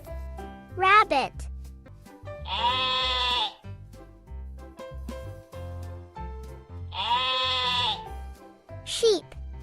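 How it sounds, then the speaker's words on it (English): A sheep bleats several times, with two long wavering bleats and shorter calls at the start and end, up close over steady background music. "Sheep."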